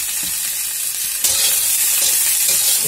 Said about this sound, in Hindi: एक दो मिनट इसे लगेगा फ्राई होने में